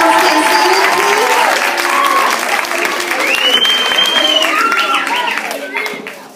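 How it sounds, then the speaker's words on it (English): An audience at a school award ceremony applauds steadily for several seconds, a dense wash of clapping with some crowd noise and a voice speaking over it, tapering off near the end. "Let's give our Shams Award for the level 1 more round of applause."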